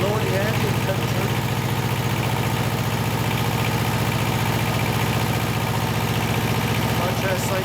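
An auxiliary power unit running with its clutch engaged and fans going, a loud, constant, close drone with a steady low hum and broadband rushing noise throughout.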